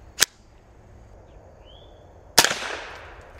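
Two sharp, loud shots from a Tippmann M4.22 fired at a watch, about two seconds apart, each a crisp crack; the second leaves a short fading ring.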